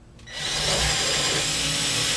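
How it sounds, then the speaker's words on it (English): Power drill boring holes in a 50cc ARF model airplane build, starting after a brief quiet moment and then spinning up into a steady, loud whirring hiss that holds to the end. "Again, keeping my drill straight and everything."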